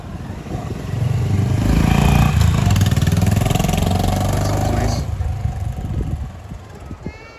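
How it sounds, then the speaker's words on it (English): A Honda Highness CB350 motorcycle engine idles and revs with a throaty exhaust note, swelling louder in the middle before settling back to a quieter rumble. "If that exhaust sound was not there, we wouldn't have even known that the bike is on"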